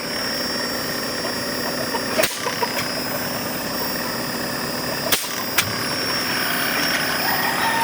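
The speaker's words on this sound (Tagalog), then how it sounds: "Yan, so nag-run yung compressor. Nag-run din itong fan motor natin." A replacement compressor and outdoor fan motor of a TCL air conditioner running with a loud, steady mechanical hum and whir, broken by a couple of sharp clicks, with no talk.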